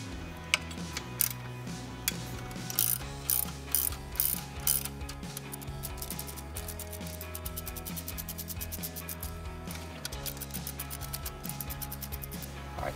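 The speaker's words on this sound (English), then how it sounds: "I'm going to remove next the alternator mounting bolt" A ratchet backs out the 12 mm alternator mounting bolt on a Subaru WRX STI, clicking steadily and rapidly for several seconds. The sound is close and clear, with metallic pawl ticks running on at an even pace and no voices.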